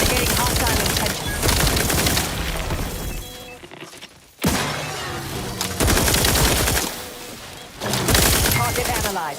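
Heavy gunfire in The Outer Worlds 2, a science-fiction shooter game. Loud, rapid bursts of shots come in dense volleys and briefly break off before resuming, with some game voices under them.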